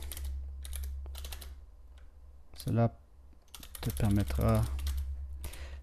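Quick bursts of keystrokes on a computer keyboard, close and fairly quiet, fade in and out while someone talks over the steady background.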